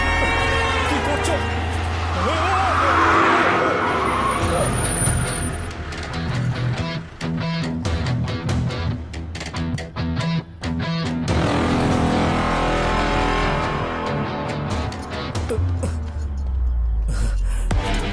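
A car driven hard, its engine revving and roaring with tires squealing through a skid, loud and close, while people shout and gasp over the motor.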